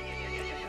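A short, close horse whinny in the video game Resident Evil Village, bright and wavering, heard on its own.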